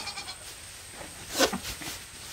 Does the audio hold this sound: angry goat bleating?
yes